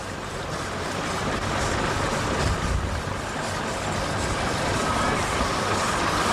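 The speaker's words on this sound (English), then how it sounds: "Now the Scamwell's going, pulling back a bit now." Scammell truck at a 1997 rally pulling back slowly, a steady broadband engine drone and rumble throughout with outdoor wind-like noise, voices faintly present.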